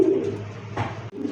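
A pigeon kept for sale, heard cooing up close in low, throaty murmurs that rise in a burst partway through, brief and fairly loud with no speech.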